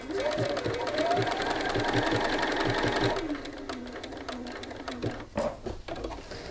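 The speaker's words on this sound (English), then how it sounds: "And sew it in place." Sewing machine stitching fabric in place during a buttons and buttonholes sewing session, a steady rapid mechanical chatter running loud and close for about three seconds before stopping, followed by quieter handling sounds.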